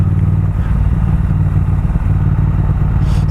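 A Triumph Speed Twin motorcycle rides along in second gear, its engine a loud, continuous, close rumble with wind noise that holds steady throughout.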